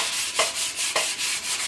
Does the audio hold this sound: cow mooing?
no